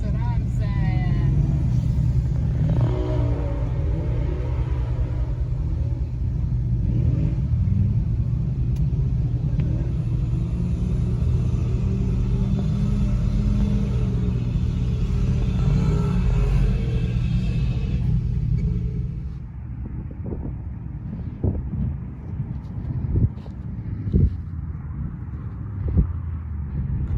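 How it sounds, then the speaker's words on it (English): A front-wheel-drive Chevrolet Silverado pickup truck drives with a loud, steady low engine rumble that drops away near the end to quieter knocks and thumps, while people talk over it. "Front-wheel drive Silverado."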